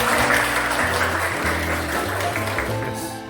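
Applause from a gathering at a school event, with students from SMK 10 sharing their activities: a sustained wash of clapping mixed with low murmuring voices, fairly loud and fading slightly toward the end.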